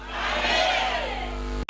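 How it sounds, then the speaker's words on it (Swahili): A church congregation shouts together in a sustained, loud crowd roar, with voices swelling and then cutting off abruptly near the end. "Piga kelele, sema amen."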